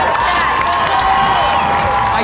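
Crowd cheering and clapping at a live track event, a dense, loud wash of shouts and applause that holds steady throughout with no break.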